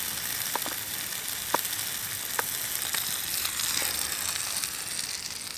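Food sizzles steadily in a pan on a backpacking stove outdoors, a constant close frying hiss with a few small pops and clicks, no talking.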